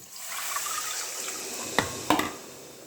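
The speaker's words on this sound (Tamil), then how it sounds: "இப்போ இதில் வந்து புளி தண்ணி சேர்த்திக்கலாம்" Tamarind water pours steadily into a pan of fish curry with a soft hiss, followed by a couple of light clinks from a utensil near the end.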